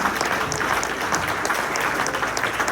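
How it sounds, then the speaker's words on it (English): A round of audience applause at a county community meeting, thick continuous clapping mixed with crowd noise for a few seconds, loud and steady. "See if I get the same round of applause for this one"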